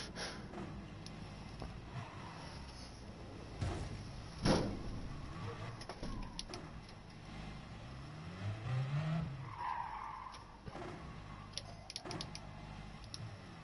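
A race car in a Gran Turismo-style racing game skids and spins out, with tire squeal and scraping sliding sounds rising and falling over engine hum, fairly quiet overall with a few sharp knocks.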